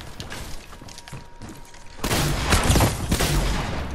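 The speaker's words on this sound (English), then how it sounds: "trying to kill me with the boom bow" Boom bow explosions in the Fortnite video game burst loudly after a tense stretch of scattered hits, a dense, roaring blast of detonations filling the latter half.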